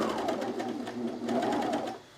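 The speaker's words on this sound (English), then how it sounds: "So all that's in front of us is the little edge we're going to serge." Serger stitching along the edge of cargo shorts fabric, a close, steady mechanical whir running continuously with a slight dip in pace midway before trailing off.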